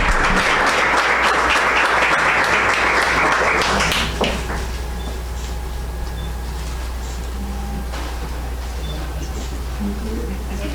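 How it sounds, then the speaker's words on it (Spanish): A ceremony audience gives a loud round of applause for about four seconds, then it drops away abruptly, leaving quieter scattered sounds over a low steady hum. "Un aplauso, por favor."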